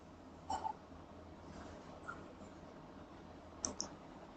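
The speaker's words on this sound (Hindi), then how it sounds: "इस ओके को क्लिक कर देंगे।" Soft mouse clicks while pressing OK on a screen, two or three brief, faint, close clicks spaced across a quiet background.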